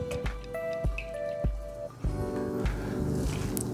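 Oil poured into wet vegan chocolate cake ingredients, heard as close wet drips, plops and squishy glugs in an uneven rhythm with light clinks.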